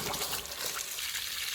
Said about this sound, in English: We're going to get a bit of water come out of here just from the pipe from the tank.